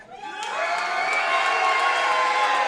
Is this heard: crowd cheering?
yes